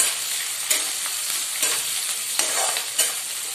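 Onions sizzle and fry in a hot pan for poha, with a steady crackling hiss punctuated by several sharp stirring scrapes, close up and with no voices.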